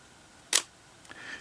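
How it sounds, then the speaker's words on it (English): A Canon 7 rangefinder shutter released at 1/60 second gives one soft, crisp click close up, then a faint trailing mechanical whir in near silence. "This, to me, has one of the nicest sounding shutters."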